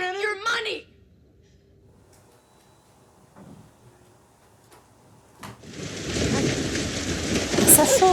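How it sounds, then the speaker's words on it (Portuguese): Sudden rain begins partway through, rising from quiet into a dense, loud, continuous downpour hiss after a brief burst of voices and some scattered knocks. "Essa chuva, gente, do nada."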